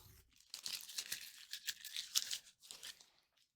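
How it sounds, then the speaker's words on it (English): Packing tape peeled off a Scrawlrbox subscription box in a long, crackling, uneven tear, loud bursts rising and falling near the mic for about three seconds before tapering off. "this tape pull is taking forever"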